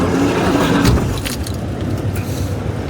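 A car engine starts up to warm the vehicle on a cold morning. Keys jangle against a loud, steady idling rumble that continues throughout, close by and with no one talking.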